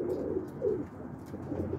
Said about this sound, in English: there's hundreds of common pigeons